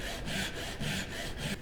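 A hand saw cuts a tenon shoulder against a dovetail-style guide on wood, a close rasping stroke repeated in an even back-and-forth rhythm, about three strokes, heard alone.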